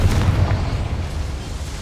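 Bombarda and Confringo spells exploding in Hogwarts Legacy inside a small mine: a loud, booming low-end blast that rolls on and gradually fades over a couple of seconds, with no talking.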